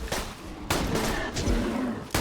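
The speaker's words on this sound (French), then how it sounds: "mais ce fusil à pompe de l'inutilité" Shotgun blasts in a video game, heard without talk: loud, sharp reports spaced apart, each a sudden full-band crack with a brief tail, and a noisy bed of game sound in between.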